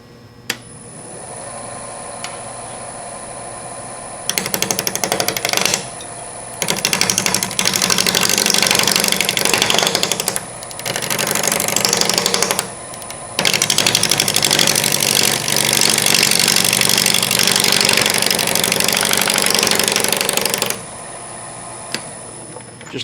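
A wood lathe turning a natural edge bowl with a deep fluted bowl gouge: a steady motor whine under loud bursts of rough cutting noise that start and stop several times, with no talk.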